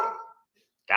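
A dog barks twice, two short, loud, close barks separated by a brief silence.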